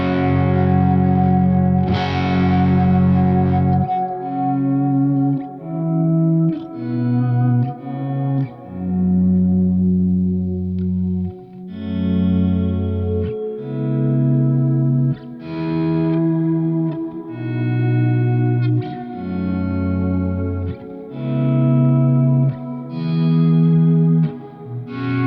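Guitar played through a Walrus Audio R1 stereo reverb pedal with swell at halfway, sustained chords shifting one after another while long reverb tails blur each change, loud and alone without voices.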